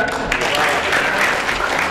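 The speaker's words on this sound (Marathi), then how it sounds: "जोरदार टाळ्या होऊ द्या सर्वांना." An audience at a Marathi poetry gathering breaks into brief, dense clapping that fills the hall, close and steady for a couple of seconds, with a voice faintly over it.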